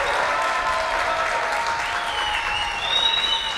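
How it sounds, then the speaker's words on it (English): Audience applause for a student dance ensemble at a school tribute event, steady dense clapping from a crowd filling the hall, holding even throughout with no talking. "Clap it up for our students."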